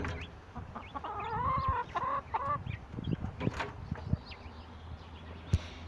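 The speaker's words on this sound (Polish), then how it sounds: "Tam kogucik i kurka." Rooster and hen clucking close by, a run of warbling clucks early on followed by scattered knocks, rustles and brief sounds, moderately loud with no talk.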